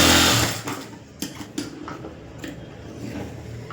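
A sewing machine runs double stitching along a lining blouse seam, a steady close mechanical whir broken by a few sharp clicks and knocks, with no talking.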